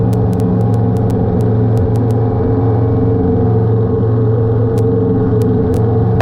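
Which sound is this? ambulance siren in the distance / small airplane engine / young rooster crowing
small airplane engine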